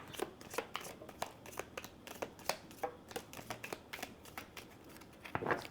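Quick, papery tarot card riffles and flicks repeat in an uneven rhythm, close up and fairly quiet, with no voices.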